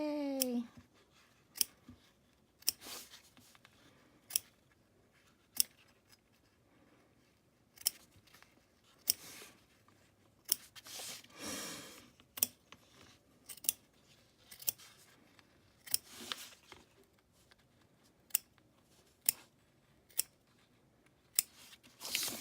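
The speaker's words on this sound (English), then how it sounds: "And we're just going to trim as close as we can all the way around." Scissors snip repeatedly while trimming close around the stitched edge of a Hogwarts-themed chibi ornament, making sharp, separate clicks at an irregular pace, fairly close and quiet against a soft background.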